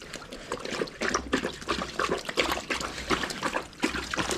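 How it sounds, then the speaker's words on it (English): A dog digging and splashing in shallow water, a run of irregular close trickles, slaps and splatters in uneven bursts with no talking. "he's digging the water rather than the base"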